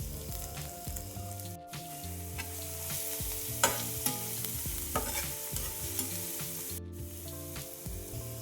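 Mustard seeds, cumin, curry leaves, crushed garlic and coriander sautéing in hot oil, a loud continuous sizzle with scraping spatula strokes and occasional pops, close up with no talking.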